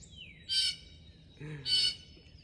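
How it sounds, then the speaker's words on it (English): A bird calls close by outdoors, giving two sharp, bright chirping bursts over a faint low background hum. "There's a bird yelling at me."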